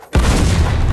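A frag grenade explodes in Gears Tactics, played on an Xbox Series S: a sudden loud, close boom after a brief quiet moment, followed by a sustained rumbling roar and crackle that fills the rest of the second.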